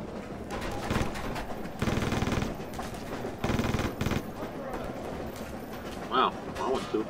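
Rapid bursts of automatic gunfire in a shooting video game, several loud rattling volleys in close succession, with background voices and game noise between the bursts.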